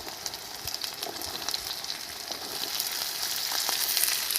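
Steady sizzling of potatoes and onions frying together in a pan for a prawn and beetroot dish, a continuous crackle growing slightly louder with a few light stirring scrapes.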